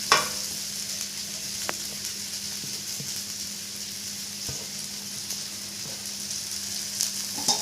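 Grated coconut cooks with softened onion and tomato for coconut rice, giving a low, even sizzle with a few faint stirring taps and scrapes. No one speaks.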